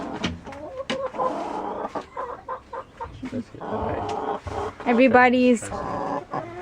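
Laying hens cluck and holler in a nest box after an egg is laid, repeated agitated calls with a loud squawking burst near the end, close by, mixed with a person talking.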